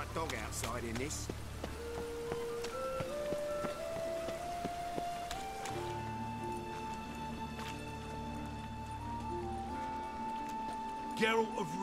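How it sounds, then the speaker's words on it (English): Steady video game rain hiss runs beneath a slow melodic music track, with sustained tones and a brief sharper flourish near the end. "Rain was coming."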